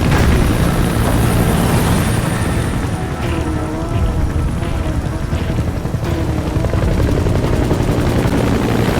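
A support helicopter's rotor thumps loudly and continuously close by in Metal Gear Solid V: The Phantom Pain, a heavy droning beat with engine whine layered over it.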